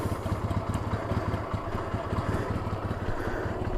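Small motorcycle engine idling after nearly stalling, a steady close putter with rapid regular pulses and light mechanical clatter, no voices.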